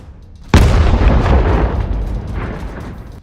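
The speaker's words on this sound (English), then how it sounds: "Another explosion. A second Russian tank was destroyed." An FPV drone strike on a Russian tank sets off a sudden loud explosion, a sharp close boom that hits after a brief quiet and rolls into a long rumbling, crackling tail of debris and echo, with no voices.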